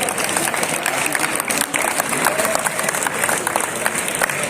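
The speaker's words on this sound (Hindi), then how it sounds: "तालियां बजती रहे।" An audience at an anti-drug youth awareness event honoring a police superintendent claps continuously, a dense, lively patter that keeps going throughout.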